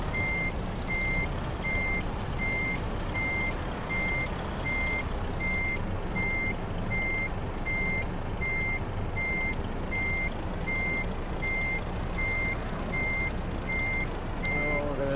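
Steady repeating reverse-warning beeps from a truck in Euro Truck Simulator 2, sounding at an even rhythm over a constant loud engine rumble throughout.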